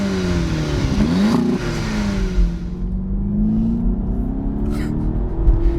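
A Seat Ibiza Cupra 1.8 engine revs hard under acceleration. The close, steady engine note rises and falls in pitch as the car pulls through the revs, with no talking.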